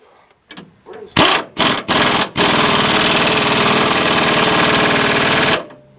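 Chevrolet Suburban engine cranks with a few short bursts, then catches and settles into a loud, steady rattling idle for several seconds before cutting off, heard up close with no talk.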